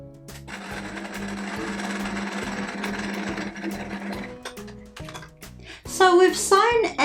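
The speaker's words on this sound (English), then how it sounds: "We're going to be sewing this small triangle onto this shape to make a larger triangle for each of the sections." A sewing machine stitches quilt triangles together for a patchwork block, running steadily and close for about four seconds before slowing into short bursts, followed by a voice talking at the end.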